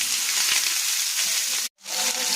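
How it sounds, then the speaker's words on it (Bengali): Cut potatoes and cauliflower sizzle in hot oil with spices, a loud, close, continuous frying hiss that drops out for a moment and then comes back. "আলু ফুলকপিগুলো যে কেটে রেখেছিলাম, ঠিক আছে, ওগুলোও দিয়ে দিলাম, যাতে ভালোভাবে খুব ভাজা হয়ে যায়"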